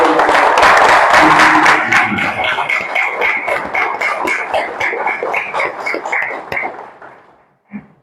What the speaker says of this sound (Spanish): Pido un aplauso para el Consejo de